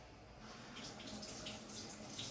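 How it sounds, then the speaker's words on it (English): Cucumbers rinsed under a running kitchen tap while a Mediterranean salad is prepared, a steady splashing water stream that holds even and moderately loud for the whole stretch. "So I'm gonna take these cucumbers, splash them under water."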